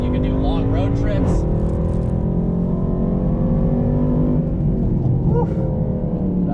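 A Mercedes AMG exhaust roars in a sustained, loud rumble that climbs in pitch as the engine revs, heard up close and without pause.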